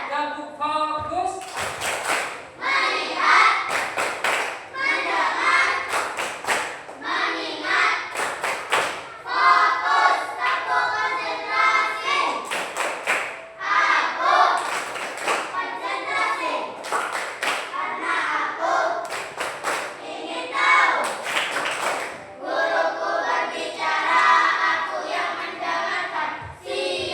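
A class claps in a rhythmic chant, with repeated sharp bursts of many hands clapping together among voices chanting loudly throughout, close and crowded.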